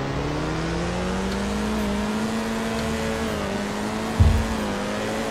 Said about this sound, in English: Here are the revs.